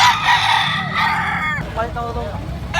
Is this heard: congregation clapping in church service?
no